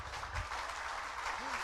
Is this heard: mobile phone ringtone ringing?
no